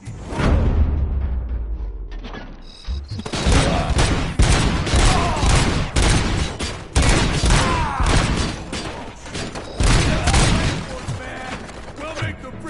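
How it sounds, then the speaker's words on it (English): Dense bursts of gunfire and a rapid fusillade with booms and mechanical clatter in the RoboCop finale, loud and continuous throughout with occasional voices mixed in. "Am I hearing gunshots?"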